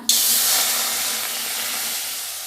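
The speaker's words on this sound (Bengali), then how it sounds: "এবার কড়াইয়ের মধ্যে একটু জল দিয়ে দিলাম" Water splashed into a hot washed wok bursts into a sharp hiss of steam that starts abruptly and slowly fades while staying loud, heard close and alone.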